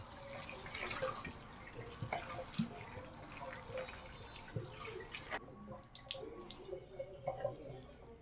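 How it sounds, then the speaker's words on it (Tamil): Fresh coriander leaves are washed in a sink under running tap water, with continuous splashing and trickling, scattered drips and handling knocks throughout, fairly quiet and close. "இது வந்து நல்லா வாஷ் பண்ணிக்கணும் கொத்தமல்லி"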